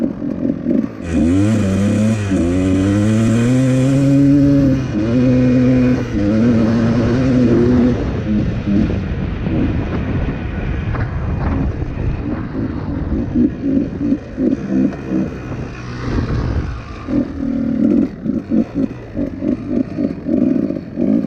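A two-stroke engine running rich bogs and drowns out, its revs rising in a strained whine before sagging into a rough, sputtering, uneven idle, loud and close throughout.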